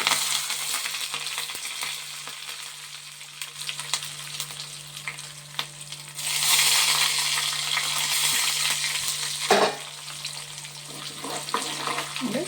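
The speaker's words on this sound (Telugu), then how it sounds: "ఈ పోపులన్నీ వేసేస్తున్నాను అన్నమాట." Tempering spices frying in a pan, a continuous close sizzle that swells into a louder hiss midway, with occasional scraping stirs and knocks, no talk.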